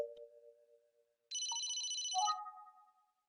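Phone ringtone in the video game Emio: a short, clean electronic tone pattern, a low steady note, then a bright buzzing chirp and a falling two-tone beep, alone and fairly quiet.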